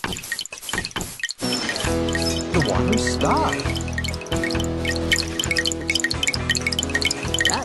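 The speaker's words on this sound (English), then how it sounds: "If you can hear running water, walk Bob through the house until you find the leak." Water drips from a leak in a house in a Bob the Builder video game, the drips repeating over continuous game music, with a brief spoken word.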